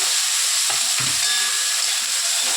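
Eggplant, potato, okra and pointed gourd frying in a pan, a steady bright sizzle with a few soft scraping stirs partway through, close and alone with no talk.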